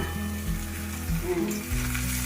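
Eggplant pieces fry in oil in a covered pan, giving a constant, close crackling sizzle over a low hum.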